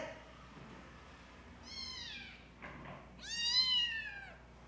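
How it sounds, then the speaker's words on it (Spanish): A newly adopted cat meows twice, two drawn-out, clear meows close by, the second louder and longer, with quiet background between them. "es mi nuevo gato."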